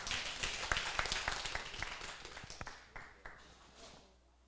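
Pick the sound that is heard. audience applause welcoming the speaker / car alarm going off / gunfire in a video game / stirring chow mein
audience applause welcoming the speaker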